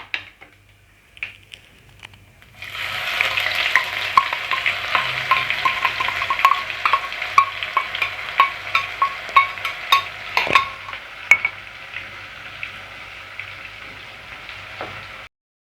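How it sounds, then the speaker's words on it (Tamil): A ground paste with mustard seeds and fenugreek is sautéed in hot oil for a fish curry, a loud sizzle bursting in after a quiet start, with repeated scraping and clinking of a spoon stirring in the pan. "இந்த பேஸ்ட்டு பச்சை வாடை போகிற வரைக்கும் வதக்கி விட்டுட்டே இருங்க."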